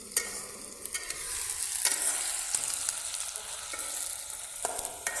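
Khichuri cooks in a pot at a riverside picnic, with steady frying sizzle and repeated scraping stirs of a ladle against the pot, close and moderately loud, with no talk.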